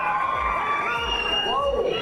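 A large audience at a comedy show roars, cheers and whoops through a standing ovation. The crowd noise is dense and continuous, with no pauses from start to end.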